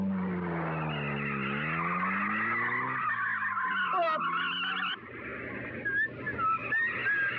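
A car driven fast with tyres skidding, a long rising and falling squeal of rubber on road, then choppier scraping squeals, loud and close.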